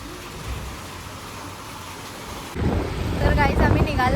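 Rain falls with gusting wind in Lonavala, a steady rushing hiss that grows louder and rougher halfway through as wind buffets the microphone, with a voice briefly audible.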